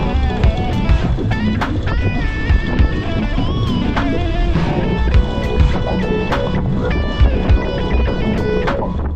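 A sailboat motoring under its diesel engine near Playa del Coco, a steady close rumble with water rushing against the hull and wind noise, plus scattered knocks and clanks, no talking.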